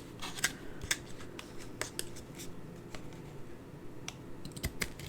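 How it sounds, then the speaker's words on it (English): Excess paper is trimmed from a handmade fold card, crisp cutting snips and soft paper rustles and taps in an uneven sequence, quiet and close with no talking. "I'm just going to trim off the excess"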